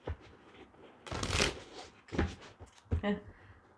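Tarot cards shuffled close up for a Taurus reading, three short riffling bursts of card shuffling separated by brief pauses, with a voice faintly present.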